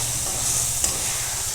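Gongura chutney fries in oil in a pan while being stirred: a loud, continuous sizzle with a brief scrape of the spoon partway through, with no talking.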